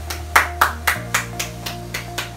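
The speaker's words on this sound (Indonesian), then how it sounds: "Tepuk tangan dulu dong kita semua." A small audience claps in unison at a talk about insecurity, eight sharp, evenly spaced claps heard close, with a steady background hum and no talking.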